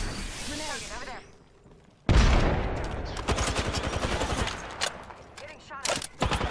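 Apex Legends gunfire: after a quieter opening with a voice, loud bursts of rapid automatic shots hammer in close, with short pauses between volleys and a few heavy impacts.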